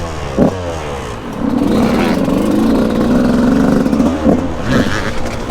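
A 125cc dirt bike engine pulling away in gear, a loud close rising drone that swells after the first second and holds steady, with a voice briefly heard.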